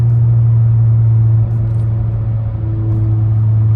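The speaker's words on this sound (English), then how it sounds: "As you can hear, the car is like roaring." A Honda Accord Sport's engine hums with a steady low drone while accelerating with paddle shifts, heard from inside the cabin as a continuous, fairly loud rumble with a slight change in pitch partway through.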